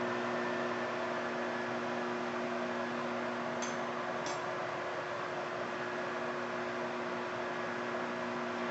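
A microwave oven runs steadily while cooking strawberry shortcake, giving a constant electrical hum and fan whir with a faint noisy wash and two brief clicks near the middle.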